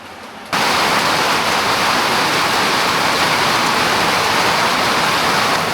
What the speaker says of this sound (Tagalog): Lakas ng ulan na yan.